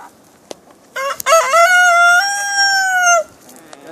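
A rooster crows once, close and loud, in a long clear cock-a-doodle-doo lasting about two seconds, with a short cluck just before it and quiet surroundings.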